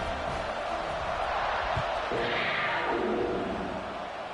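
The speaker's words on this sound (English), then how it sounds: "They're set to kick it off, and this crowd now ready to get behind them." A college football stadium crowd gives a steady, broad roar as a tied game in the third quarter is set for kickoff. The wash of crowd noise is loud and distant, with a dull thump partway through.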